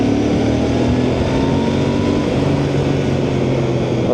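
A Royal Enfield Bear 650 twin-cylinder motorcycle on its stock exhaust drones steadily on the road, a continuous loud engine hum with traffic noise blended in and no speech.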